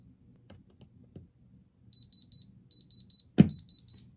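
Electronic diamond tester beeping in short, evenly spaced high bursts in groups while moissanite stones on a chain are tested, with one sharp handling clunk midway and light rustle between beeps.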